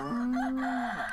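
A rooster's cock-a-doodle-doo sounds from an animal button in the video game Outcore, one short, clear, sustained crow heard alone.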